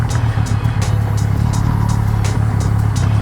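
A Yamaha MT-09 SP motorcycle riding along a gravel road, its engine droning steadily and close with a low hum, and regular crunching ticks from the tyres on loose gravel throughout.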